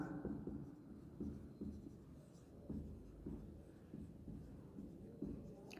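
A pen or marker writing on a board in a maths class, giving faint scratchy strokes in short irregular bursts with brief pauses, close and quiet, with no voices.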